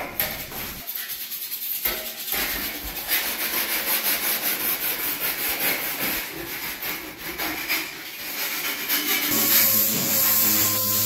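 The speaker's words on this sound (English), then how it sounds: "the idea here is to sand everything to 180" Club kart parts, including aluminum panels, being sanded to 180 grit before primer: a steady, close, continuous rasping rub that grows a little louder toward the end, with no talking.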